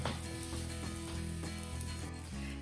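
A lachcha paratha goes into hot oil in a pan and sizzles, a steady, fairly quiet hiss of frying under a continuous musical background.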